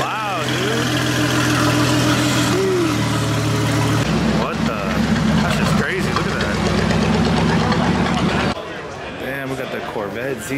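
A loud Porsche GT4 RS engine rumbling and idling close by, with low, steady engine tones throughout and people talking over it.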